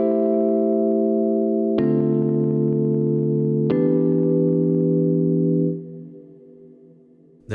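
Sustained, effected guitar chords from a sampler fed through Guitar Rig ring out with heavy reverb, struck again twice at steady intervals before the last one fades into a lingering tail.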